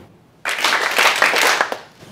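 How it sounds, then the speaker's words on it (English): After a moment of quiet, a lecture audience claps together in a short synchronized burst of a few claps, crisp and close, then fades out. "this time, instead of clapping one time, please clap 3 times"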